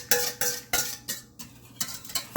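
Metal pot set on a stovetop burner with chocolate custard liquid for pot de creme, a series of sharp clanks and scraping knocks at an irregular pace, close by with no talking.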